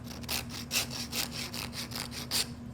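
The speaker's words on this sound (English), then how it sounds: "take the wood and rub it back and forth on the rasp, like I'm doing right now" Wood rubbed back and forth against a rasp to round a piece of scrap stock, giving about six close, even rasping strokes in a steady rhythm with nothing else heard.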